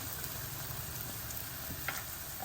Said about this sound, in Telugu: ఇది ధనియా పౌడరు వేగాలండి నూనెలో